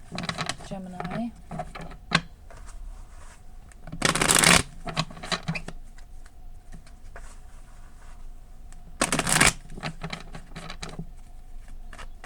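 Tarot cards being shuffled by hand during a reading: two loud riffling bursts of crisp paper flutter, with softer card handling and light taps between, and a voice speaking faintly in the background.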